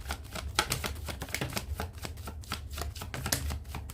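Tarot cards being shuffled by hand, a rapid run of crisp flicking and riffling taps at close range, steady and fairly quiet, with no talking.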